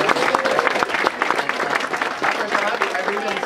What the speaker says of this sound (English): And yes, you can clap.